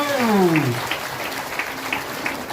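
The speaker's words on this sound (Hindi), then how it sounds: "एक बार ताली बजाएं, धन्यवाद दीजिए प्रभु को" A congregation at a prayer gathering claps in praise, with rhythmic, steady handclaps that follow a brief voice at the start and continue at an even pace.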